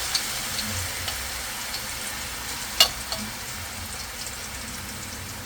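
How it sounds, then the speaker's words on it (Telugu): Masala sizzling steadily in hot oil for a Godavari-style pulasa fish curry, a constant close hiss with faint stirring clicks and one brief sharper scrape midway, no voices. "మసాలా దోరగా వేయించుకోవాలండి."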